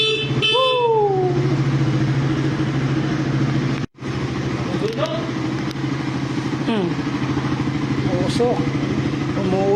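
A carbureted Suzuki Raider motorcycle engine revs up loudly and close, with rising and falling throttle bursts over a steady idle drone, a brief cut around the middle, and people talking and cheering over it.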